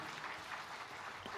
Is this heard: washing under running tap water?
no